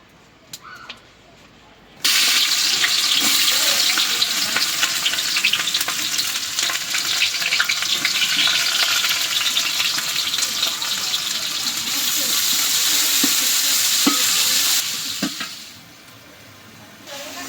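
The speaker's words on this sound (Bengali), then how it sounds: "মশলা কষাই নিলাম" Spices are sautéing in hot oil in a pot during home cooking of spicy khichuri, giving a loud, steady sizzle. The sizzle rises abruptly after a quiet start, holds for about thirteen seconds with occasional stirring clinks, then drops back to a low background.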